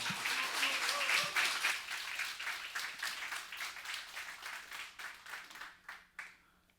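A church congregation claps to welcome a pastor arriving for a lecture, a dense burst of applause at a moderate distance that thins out into scattered, fading claps.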